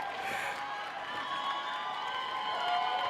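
Theatre audience applauding an actor during a Cursed Child stage performance, a dense, sustained wash of clapping and crowd noise that holds steady throughout with a slight swell near the end.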